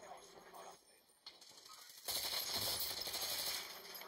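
Gunfire in the video game Apex Legends: a quiet stretch with small clicks, then a sudden loud burst of shots that holds for about a second and a half before easing off.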